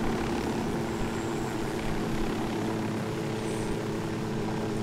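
Helicopter in the Ghost Recon video game, a steady, loud rotor and engine drone that holds constant throughout, with a close, unbroken hum and no voices.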